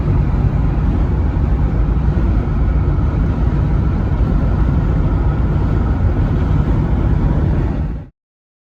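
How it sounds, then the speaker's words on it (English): A train passes outdoors in the Eastern Washington scablands, producing a loud, continuous low rumble that holds steady for about eight seconds before cutting off abruptly. "There's a train."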